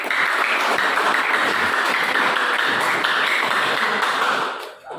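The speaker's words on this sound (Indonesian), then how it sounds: "Tepuk tangan dulu." Classroom applause from students during a history lesson, a dense, steady wash of many hands clapping that holds for about four and a half seconds before fading.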